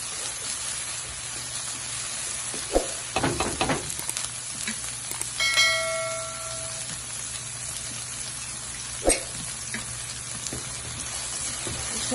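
Chicken chow mein with green onion sizzles and fries in a pan, a steady close crackle with a few brief stirring clatters and a sharper burst of scraping near the start.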